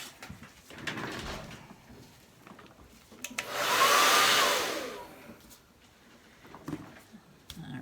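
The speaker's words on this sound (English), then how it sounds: "Gotta get my hair dryer ready." A hair dryer blows across wet acrylic pour paint for several seconds, a steady broadband rush that swells loud near the middle, then fades back to a quieter room.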